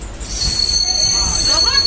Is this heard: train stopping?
yes